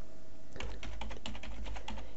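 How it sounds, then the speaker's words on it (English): Rapid typing on a computer keyboard begins after a brief pause, a steady run of close, crisp key clicks. "So you type in here,"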